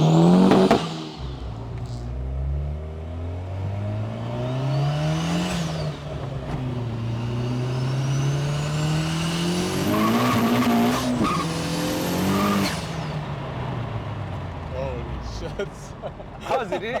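A street-legal VW Golf Mk1 with a 1.8 20V turbo engine is driven hard, its engine revving up and down through gears with turbo whine and tire noise, while people talk inside the car.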